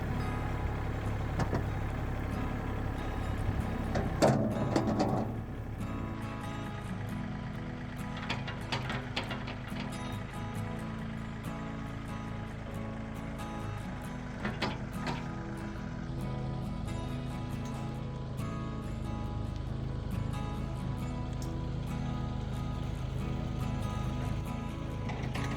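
A tractor regrading garden ground runs steadily for the whole stretch, its engine drone constant with rattling, clanking mechanical noises and a few louder knocks, no talk over it.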